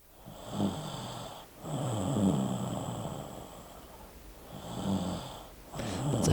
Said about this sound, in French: nous sommes interrompus par des ronflements intempestifs